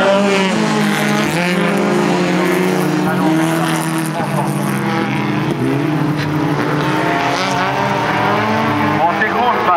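Folkrace cars race on a dirt track at Vimmerby, engines roaring loud and continuous for the whole stretch, with a commentator talking over the noise and faint tire scrabble mixed in.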